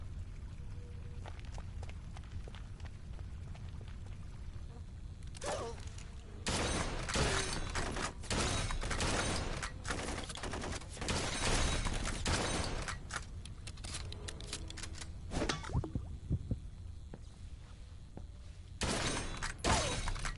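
A quiet video-game firefight, with rattling volleys of gunfire and shattering impacts arriving in clusters separated by calmer stretches.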